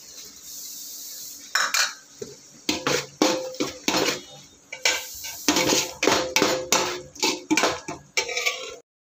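Curd goes into sautéed tomatoes in a cooking pot for mutton biryani, with repeated loud metallic clanks and scrapes of a spoon against the pot in a steady, uneven rhythm.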